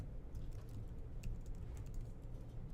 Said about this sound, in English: Now I can just simply type my